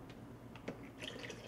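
Water runs into a coffee maker's reservoir: a few quiet drips, then a faint, steady trickle of filling in the final half second.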